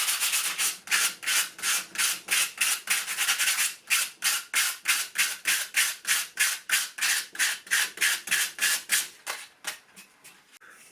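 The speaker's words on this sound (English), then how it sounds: "Now we'll just give it a little bit of sand." Sanding dried all-purpose filler on brick, a steady run of about thirty rhythmic, scratchy back-and-forth rubbing strokes, close and fairly loud, no talking.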